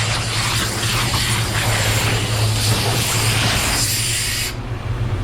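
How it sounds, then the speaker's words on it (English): A powerful air blower blasts continuously to clear dust off a painter, a loud steady roaring hiss with a low hum that cuts off abruptly near the end. "That's another thing I like about these blowers."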